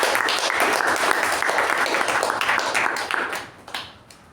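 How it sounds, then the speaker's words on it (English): A round of applause at a Toastmasters club meeting: a roomful of people clapping loudly and steadily, then thinning out and fading to a few scattered claps near the end. "a resounding round of applause"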